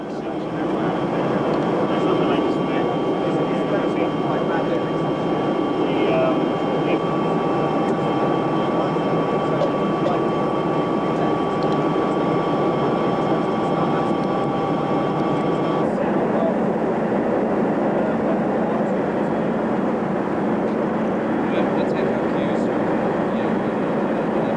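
A continuous engine drone fills the cabin of an airborne radar surveillance plane in flight during the 1995 Bosnian air war. The loud, steady hum carries faint whining tones that drop away partway through.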